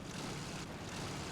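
A German tank engine in Gates of Hell Ostfront runs as a loud, steady, rumbling roar with no break, and no voices are heard.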